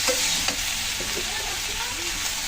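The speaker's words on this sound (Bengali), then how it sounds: "সাথে সাথে ভালো করে ভেজে নিলাম" Prawns and Malabar spinach fry in a pan, a continuous close sizzle with soft stirring scrapes over a brief stretch.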